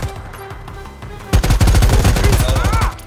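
Gunfire in the video game Predator: Hunting Grounds: after a quiet stretch, a loud, rapid burst of automatic shots starts and keeps rattling for about a second and a half, then stops abruptly.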